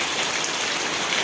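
Steady rain falls loudly and continuously as a dense, even hiss of drops on surfaces, with no voices over it.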